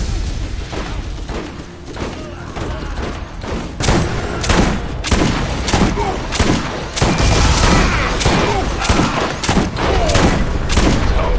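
Loud, close gunfire from a Borderlands DLC fight, with regular rhythmic shots, some booming impacts and mechanical clatter, a corrosive weapon landing critical hits, and a little speech now and then.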